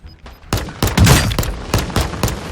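Rapid bursts of gunfire in Warzone 2.0 crack out in an irregular volley, loud and close.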